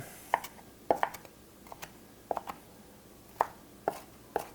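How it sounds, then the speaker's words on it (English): Herb sprigs get a rough chop with a knife on a board for potato salad: about a dozen sharp, close knocks in uneven clusters with quiet gaps between, and no voices. "I pull a couple of sprigs off to the side, and then I just give it a little rough chop."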